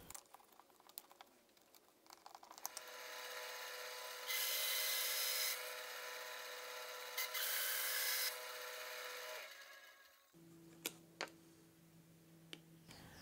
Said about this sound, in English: I then flip the template around to the more tapered side and then cut off the top and bottom of the handle.